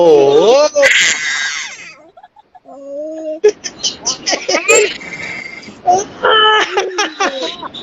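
An excited baby on a video call with dad lets out high, wavering squeals and shrieks in bursts, loud and close, with adult voices chattering around and between the cries.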